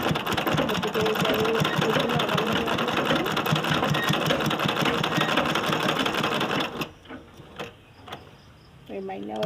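A sewing machine stitching a kurta runs loud and close in a steady rapid whir for about seven seconds, then stops, leaving quiet room sounds and a few soft clicks.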